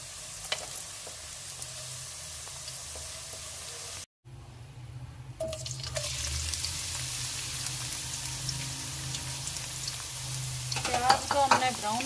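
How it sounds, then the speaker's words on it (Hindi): Onions sizzle steadily in a pan for masala for karela gosht, with stirring scrapes and a brief break before the frying hiss resumes, louder toward the end. "प्याज को हमने ब्राउन नहीं करना है, बस हल्का सा पकाएंगे।"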